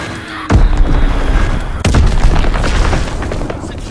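Loud booming bomb blasts hit in a video game battle, with two heavy explosions followed by rumbling debris and scattered gunfire, while a game announcer voice calls out.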